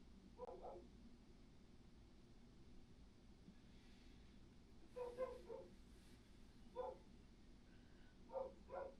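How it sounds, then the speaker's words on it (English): Faint dog barks and yips come in short scattered bursts, distant and muffled over a steady low background hum, with a soft whimpering quality. "The dogs are losing their minds."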